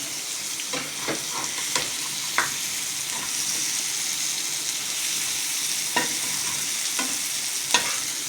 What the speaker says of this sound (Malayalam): എണ്ണ ഒഴിച്ചിട്ട് അതിൽ പൊരിക്കുകയാണ് ചിക്കൻ.